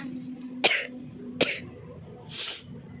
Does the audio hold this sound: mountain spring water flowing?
no